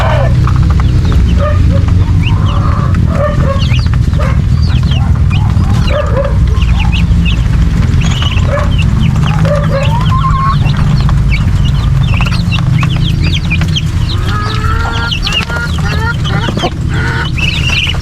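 A hen clucks on a farm in the countryside, with repeated close, loud clucks and chicken calls over a constant low background hum, joined by other farm birds.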